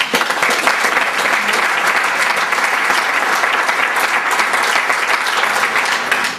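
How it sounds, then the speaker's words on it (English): Loud, sustained applause from a crowd at a high school senior sports banquet, steady clapping filling the room without a break. "let's give you guys a round of applause"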